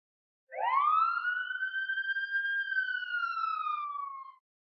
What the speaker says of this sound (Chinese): 消防车？